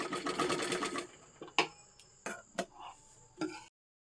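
A sewing machine stitches a blouse piping strip, first in a fast close rattling run, then in several short separate bursts with pauses between, ending in silence.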